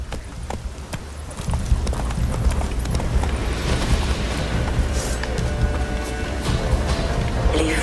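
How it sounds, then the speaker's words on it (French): A horse gallops in The Witcher 3 video game, its rapid hoof beats drumming steadily and loud over a rushing, wind-like game ambience, with no pause for the full stretch. "Au galop, Ablette."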